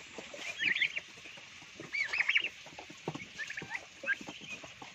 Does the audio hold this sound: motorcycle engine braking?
no